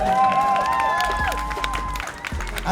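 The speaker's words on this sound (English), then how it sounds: "a massive round of applause" Applause and cheering from a crowd at a winter tattoo show, clapping running beneath music with tonal lines and low bass, moderately loud and continuous.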